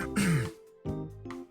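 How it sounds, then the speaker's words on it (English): A character in a visual novel game clears their throat: a short, rough vocal rasp, then two more brief throat-clearing bursts after a pause, close and fairly loud. "I took a few steps back, clearing my throat"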